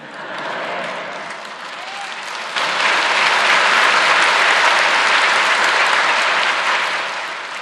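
Church audience applauding at a sermon, steady clapping that swells louder partway through and holds, fading slightly at the end.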